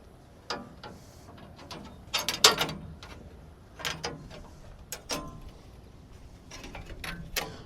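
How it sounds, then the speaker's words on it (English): An old sawmill band blade is worked off around its wheel, giving scattered metallic clanks and ticks, some sharp and bright, between quieter handling noise, close by with no talk. "Pull the old blade off, work it off around the wheel."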